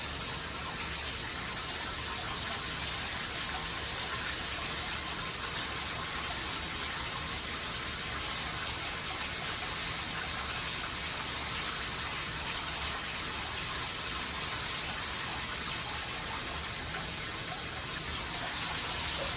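Steady, full-spectrum water spray from a shower runs continuously and evenly throughout, a close, unbroken hiss with no voices.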